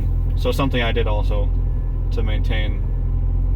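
Toyota MR2 with a 3S-GTE turbo engine driving through town, its low steady rumble running continuously close-up beneath someone talking.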